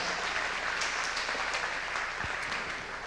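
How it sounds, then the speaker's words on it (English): An audience applauds a guest on a college campus, steady dense clapping filling the space at moderate loudness without a break. "give him a big round of applause"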